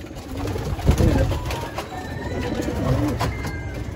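Pigeons coo softly and repeatedly inside a loft, with low rolling calls close by and a few other birds faintly in the background.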